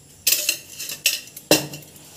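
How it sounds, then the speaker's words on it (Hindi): A spoon mixes ghee into powdered Oreo biscuits, giving three separate bursts of scraping and clinking against the bowl, close up, with quiet pauses between and no voices. "2 टीस्पून के लगभग हम इसमें घी डाल के इसको अच्छे से मिक्स कर देंगे।"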